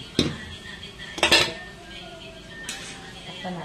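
A lid being set on a cooking pot of ginataang papaya with vegetables and broth, giving a few sharp metallic clanks and clinks that stand out against quiet kitchen background.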